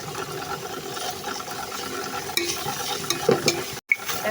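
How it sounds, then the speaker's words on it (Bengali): Spices with salt, turmeric and dried chilli fry in oil for a chicken curry, giving a continuous close sizzle with scraping stirs and a brief clunk near the end, no voices. "এখন মশলাটা ভালোভাবে কষিয়ে নিব যতক্ষণ না তেল ছাড়ে"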